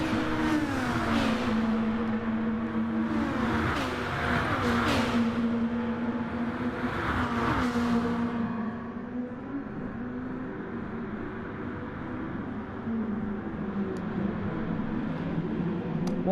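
Sportscars in a racing video game scream down the straight at Fuji Short, several engines revving and shifting up in overlapping whines, loud and continuous, settling into a steadier drone as they pull away.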